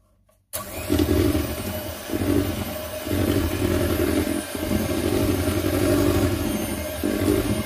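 An electric hand mixer blends roughly mashed bananas into banana bread batter, its motor whirring on steadily after a brief silence, the pitch dipping slightly as the load shifts.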